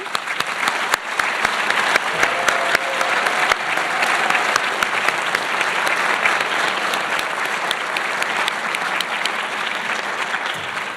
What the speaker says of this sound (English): I'd like to ask for a final round of applause for the recipients today from everyone here in the room